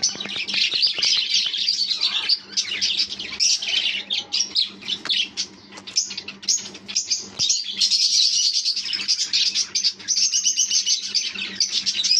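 Pet budgerigars in a breeding box chirp and tweet continuously, a dense, close chorus of high twittering calls with occasional squawks and wing flutters.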